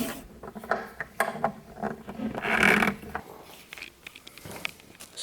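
A cam lock nut in kitchen furniture is rotated and tightened, giving a series of faint close scrapes, creaks and clicks in irregular bursts, with a longer grinding turn in the middle and no talk.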